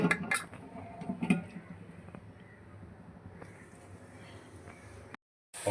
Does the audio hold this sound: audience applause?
no